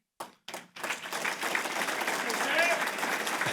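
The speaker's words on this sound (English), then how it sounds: "You have your own cheering section." Applause and cheering from an audience at a public safety awards ceremony, after a civilian employee of the year is announced. A couple of separate claps lead into steady, dense clapping that holds at the same level to the end.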